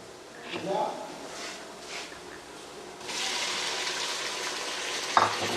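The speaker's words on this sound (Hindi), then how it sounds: "इस टाइम पे आके हम इसमें टमाटर डालेंगे" Onions fry in a pan for chicken biryani, and tomatoes are tipped in, which sets off a louder, fuller sizzle partway through; quiet, close, with a brief clatter near the end and a voice talking.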